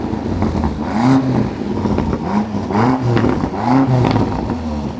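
Range Rover SV Edition 1 engine revving loudly up and down in repeated surges, close by, with no talking over it.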